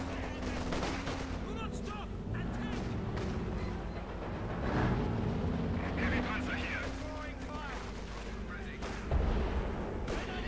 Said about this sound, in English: Another artillery strike there from Overlord.